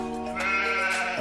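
A single Australian Merino sheep gives one close, clear bleat lasting just over a second, wavering and nasal.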